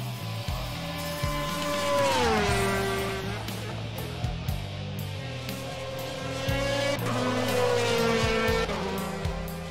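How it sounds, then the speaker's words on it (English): A DTM race car howls around the Red Bull Ring circuit, its loud engine climbing and dropping through gear changes with brief tire squeal, heard up close and continuous across the run. "that car is on the edge as he goes around the track"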